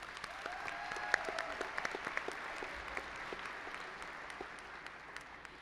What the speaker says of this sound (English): Put your hands together and give yourselves a round of applause.